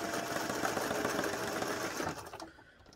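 A sewing machine runs steadily, stitching along a pillow seam with a fast, even mechanical whir at close range, then slows and stops just before the end.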